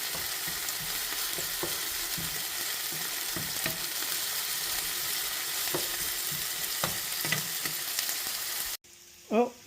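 Scrambled eggs sizzle and fry steadily in a pan, with soft scraping and tapping as they are stirred around, before the noise cuts off sharply near the end, leaving a brief quiet tone.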